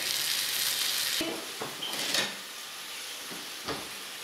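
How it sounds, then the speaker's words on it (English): Pasta alla Genovese sauce sizzles and fries in a pan over a high flame, with a steady close hiss broken by a few stirring scrapes and soft utensil knocks. "We're gonna let that cook for always on high heat."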